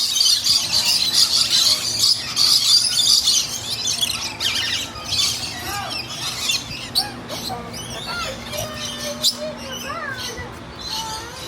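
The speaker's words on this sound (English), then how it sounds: "This is about as close as Ellie will get to the birds through a big metal fence" Lorikeets and other birds squawking and chirping in a fenced aviary at Busch Gardens, with loud, busy calls crowding the first few seconds, then scattered nearer chirps and squawks over a steady hum.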